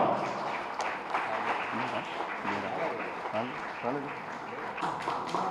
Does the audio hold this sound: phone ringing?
no